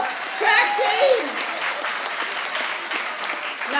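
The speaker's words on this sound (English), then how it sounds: "Give them a round of applause. Track team." Applause for a high school track team at a 2025 sports awards ceremony, a sustained wash of clapping from a crowd filling the room, with a voice briefly audible over it near the start.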